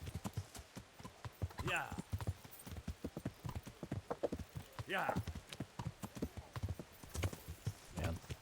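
Horse hooves clip-clopping in a medieval video game, a rapid uneven run of hoofbeats with occasional whinnies, heard under frequent casual talk from players.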